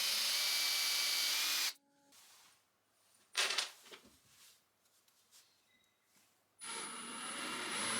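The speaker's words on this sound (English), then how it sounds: "I'm going to attach the pieces to the base with screws" A power drill drives screws to attach wooden pieces to a base for wooden bubble wall art, heard as two long loud whirring runs separated by quieter handling knocks and taps.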